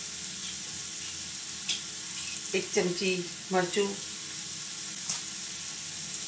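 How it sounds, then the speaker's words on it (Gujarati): Chopped vegetables and dry spices for veg pulao sizzle in a pan, a constant, fairly loud frying hiss, while a voice speaks briefly over it. "હવે મસાલા પણ આપણે થોડા આવી રીતે ફ્રાય થવા દઈશું"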